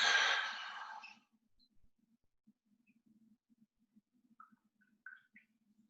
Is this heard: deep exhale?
yes